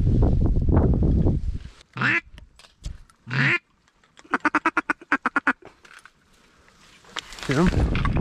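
Ducks quack loudly and close by during a duck and goose hunt, rapid runs of calls alternating with honking bursts, while hunters talk at the start and end.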